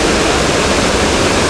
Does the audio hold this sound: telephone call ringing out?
no